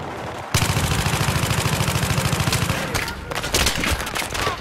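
Gunfire in the multiplayer video game Battlefield 3 erupts as a loud, rapid automatic burst of evenly spaced shots, a short pause, then more scattered shots and a second burst.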